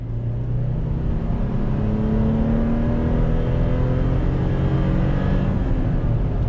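A 2021 Toyota 4Runner Nightshade with a large naturally aspirated V6 accelerating onto a highway, heard from inside as a loud, steady engine drone that climbs smoothly in pitch over road and wind noise.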